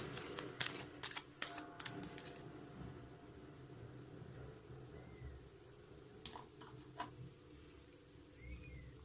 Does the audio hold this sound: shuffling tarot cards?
yes